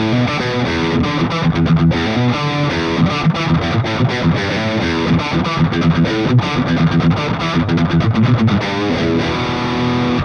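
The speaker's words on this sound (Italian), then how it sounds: "Proviamola con molta più distorsione e vediamo cosa succede" PRS electric guitar played through heavy distortion in a hard rock and metal style, a loud, dense, continuous stream of chugging riffs and sustained chords with no speech.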